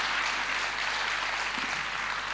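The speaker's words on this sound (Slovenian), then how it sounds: "kar aplavz" An audience applauds at the Zasavc leta 2024 award event in Slovenia. The clapping is a steady, dense wash of many hands that holds at an even level throughout, with no voices standing out.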